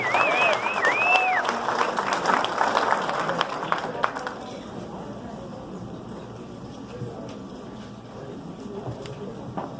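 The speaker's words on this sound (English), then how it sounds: "Give a round of applause." Applause for a city council member of El Monte at a Zoot Suit 40th anniversary event, loud broadband clapping with whoops and cheers for about four seconds, then fading into a quieter room murmur.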